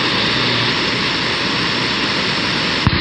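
A car cruises at highway speed with the windows wide open, giving a loud, constant roar of wind and road noise that fills the whole stretch, ending with a brief thump.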